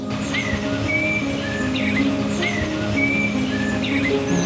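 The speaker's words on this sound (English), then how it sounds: "Star Wars theme by birds?" Birds outdoors in the morning whistle a repeating melodic phrase that resembles the Star Wars theme, clear and moderately near over steady background noise.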